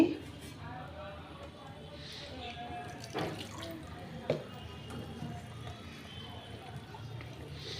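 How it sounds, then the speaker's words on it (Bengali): A spice bowl being rinsed and then filled with a little water, with faint splashes, drips and a couple of light knocks against the bowl under quiet background talk. "আমি মশলার বাটিটা ধুয়ে একটু জল দিলাম"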